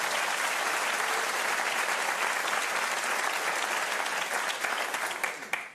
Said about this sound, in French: Est-ce qu'on peut applaudir Capucine?